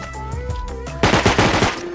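Rapid automatic gunfire from the survival game Rust, sounding as a close, loud burst of quick shots that speeds up and grows heavier partway through, with no talking over it.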